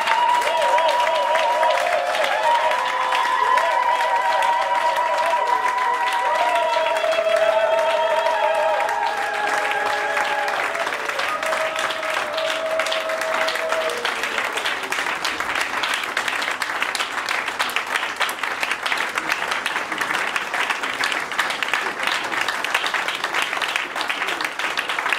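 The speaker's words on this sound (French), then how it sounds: "Est-ce que nous pouvons applaudir?" Audience applause at a memorial tribute, a sustained wall of clapping lasting the whole stretch, with sung or played melodic notes riding over it during the first half before the clapping continues alone.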